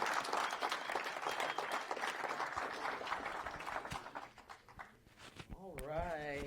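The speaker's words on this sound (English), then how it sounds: "Round of applause for these guys as well." Audience applause at a PulseChain tour event in Amsterdam, dense steady clapping that thins out toward the end before a voice begins speaking.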